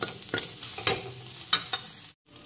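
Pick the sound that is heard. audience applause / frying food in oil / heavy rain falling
frying food in oil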